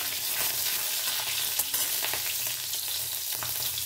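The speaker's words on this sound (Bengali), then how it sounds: "আর আমি সামান্য কালো জিরে দিয়ে দিচ্ছি, আর দিচ্ছি একটা কাঁচা লঙ্কা পিস করে। একটু নাড়াচাড়া করে নিচ্ছি।" Nigella seeds and a green chili sizzle and crackle in hot oil, a steady frying hiss with a few soft stirring scrapes, close and continuous with no talk.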